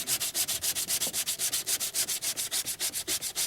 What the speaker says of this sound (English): let me get sanding